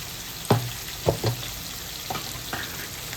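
Mustard paste frying in a pan for prawn malai curry, a soft steady sizzle broken by a few sharp knocks and scrapes of a spoon, moderately close.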